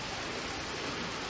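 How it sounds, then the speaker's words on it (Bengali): Heavy rain falls steadily as a dense, even wash of noise, quiet and continuous with no voices over it. "দেখবে এখনও বৃষ্টি পড়ছে"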